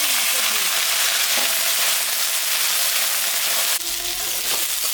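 Onion fries in a pan for a thin tengra fish curry, giving a loud, steady, close hissing sizzle that holds unbroken throughout, with a slight jolt near the end as something shifts.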